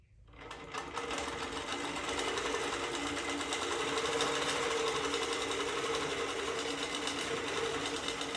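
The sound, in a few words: sewing machine sewing a straight basting stitch on quilt top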